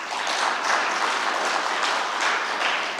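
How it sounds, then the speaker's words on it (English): An audience claps together in sustained, even applause, a dense wash of many hands that holds steady throughout without voices standing out. "I thought you'd clap for that."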